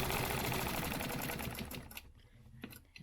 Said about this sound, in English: I want to stitch a 1/2 inch line